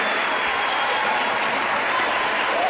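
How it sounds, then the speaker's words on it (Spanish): Sustained, dense applause from an audience at a live show, praising the backing band; the clapping stays loud and steady throughout with no pause. "se merecen un aplauso bien grandote"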